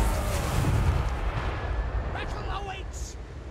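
Tsar cannon artillery in Total War Warhammer 3 booms in a continuous heavy barrage, deep rumbling impacts rolling together over battle noise, while someone talks over the fighting.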